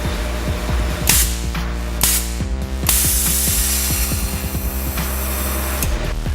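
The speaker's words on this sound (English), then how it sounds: "the valve opens and closes pretty much instantly, even at 30 psi boost" A GFB DV+ blow off valve vents repeatedly under boost, with sharp, loud, hissing whooshes that recur in quick bursts over a rhythmic, pulsing mechanical drone.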